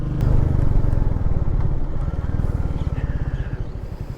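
A Royal Enfield Meteor 350 cruiser motorcycle engine thumps steadily at idle, a deep rhythmic low pulse running close by with a faint bit of background noise.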